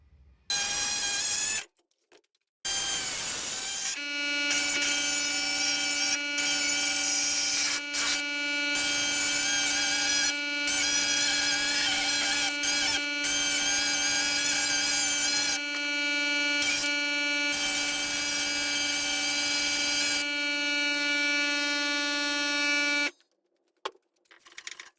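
A power drill whines with a steady, high, tonal buzz, drilling an Austin A30/A35 car body in long bursts with brief pauses between them.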